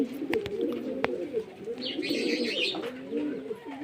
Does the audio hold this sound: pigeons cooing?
yes